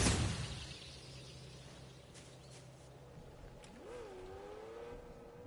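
A motorcycle engine in the video game Fortnite hums steadily at low pitch, then revs up with a rising, wavering whine in the final seconds, moderately loud with no talk over it.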